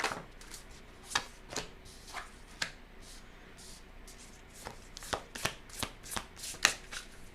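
A deck of cards shuffled for a card reading, close and quiet, with a few isolated riffles and snaps early on and a quicker run of crisp riffle bursts toward the end.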